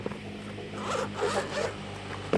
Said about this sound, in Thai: นี่ก็จะมีซิป ปิดแล้วก็หิ้วได้นะครับ